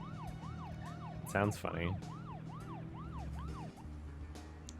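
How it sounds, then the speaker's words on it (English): A police car siren in the video game Deadly Premonition wails in a steady repeating rise-and-fall pattern over engine hum, with a voice briefly speaking over it midway. "I can only go like 40 when I don't have my siren on."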